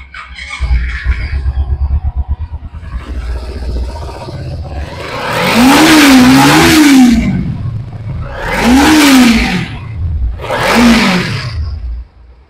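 A second-hand 2019 motorbike with 14,000 on the clock at a used bike showroom in Kolkata starts up and revs in three loud, rising swells, close by, after a low idle.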